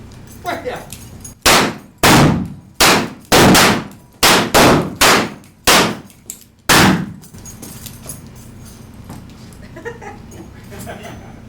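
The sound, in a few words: gunshots in a staged Wild West gunfight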